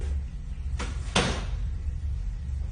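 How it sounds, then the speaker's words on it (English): A closet door shuts indoors with two quick, close sounds, a soft swish followed by a firmer thud, over a quiet room hum. "it looked like I saw the closet door shutting"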